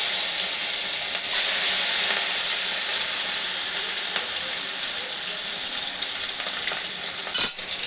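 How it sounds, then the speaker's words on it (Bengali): Two pieces of fish fry in hot oil for a Bengali fish curry, giving a steady, close, loud sizzle that continues throughout, broken near the end by a brief clatter. "তো আমি দুখানা মাছ আগে একটু ভেজে নিচ্ছি"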